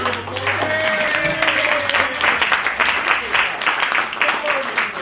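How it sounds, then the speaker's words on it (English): Audience applause for volunteers called up on stage at an escape magic show, a steady wash of clapping that swells after the first second and carries on, with a voice and some tonal sound underneath. "Give these men a round of applause."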